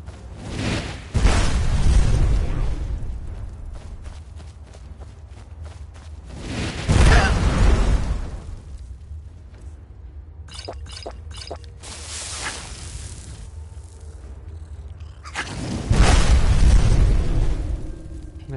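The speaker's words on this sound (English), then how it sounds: "As you can see, the explosion" Several heavy booms from explosions in the video game Skyrim arrive in separate bursts, each a deep thud that fades slowly, with quieter crackles and small pops between them.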